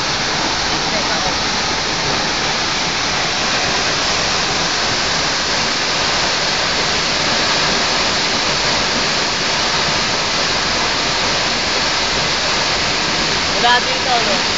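Aw Asen Falls roars as a steady, loud broadband wash of falling water, constant and close throughout, with faint voices barely audible beneath the rush.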